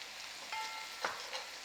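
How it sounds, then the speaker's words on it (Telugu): Garlic frying in hot tempering oil for a red chilli pickle, a soft steady sizzle with a few brief crackles and pops, close and faint, with no voices. "అండ్ మంచిగా వేయించడానికి పోపులో ఫుల్ 1 స్పూన్ నిండుగా వెల్లుల్లి"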